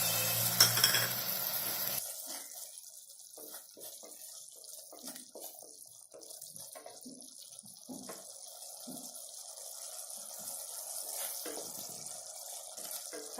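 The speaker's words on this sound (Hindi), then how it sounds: "इसे कम गैस पर हम फ्राई करते रहेंगे प्याज टमाटर को।" Onions and tomatoes frying on low gas for aloo chana chaat, a soft steady sizzle close by with faint scraping and stirring noises throughout.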